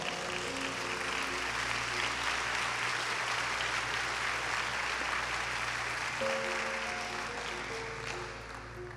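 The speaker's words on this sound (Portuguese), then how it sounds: "Então aplauda ao Senhor." A church congregation applauds together, a broad continuous wash of clapping filling the room for the full stretch while sustained organ or keyboard chords ring beneath, shifting partway through and easing slightly at the end.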